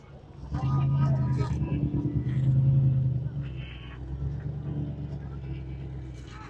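A 1959 Chevrolet at a Thanksgiving car show in Daytona rumbles with a deep, steady idle. The engine sounds close and loud, swells briefly, then settles, with voices faintly in the background.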